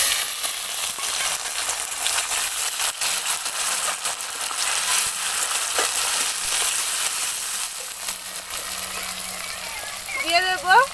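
Onions and chopped tomato fry for a freshwater snakehead fish curry, giving a steady, loud sizzle in the pan throughout with occasional stirring, while someone talks over it in Bengali.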